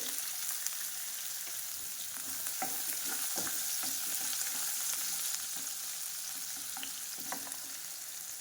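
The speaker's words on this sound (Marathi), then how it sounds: "आपल्याला बारीक चिरलेला कांदा घालायचा आहे." Finely chopped onion frying in a pan, a steady close sizzle broken by frequent spatula scrapes and stirring clicks, no voices.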